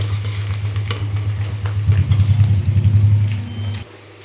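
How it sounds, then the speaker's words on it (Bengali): Chopped onions fry with garam masala in hot oil for a Bengali fish dish, a loud continuous sizzle with a low hum beneath and stirring scrapes, cutting off sharply near the end. "পেঁয়াজটা আমি হালকা লাল লাল করে ভেজে নিয়েছি।"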